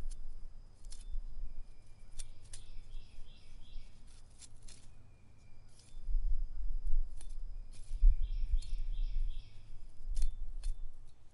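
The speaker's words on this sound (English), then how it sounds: "we're gonna get all these little needles cut off of here first, to where all we have left is the stalk" Scissors snip needles off a wild thistle stalk outdoors, giving sharp, quiet clicks at an uneven pace, with birds chirping faintly in the background.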